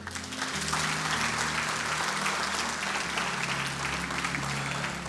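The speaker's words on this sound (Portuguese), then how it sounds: "Aplauda o Senhor bem forte." A church congregation claps hard and continuously in a dense, steady wave of applause filling the room, with low murmurs and faint background music under it.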